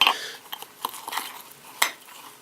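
A spoon stirs thick pudding mix in a mug with scraping, dull tapping and a couple of bright clinks against the sides, close and fairly quiet.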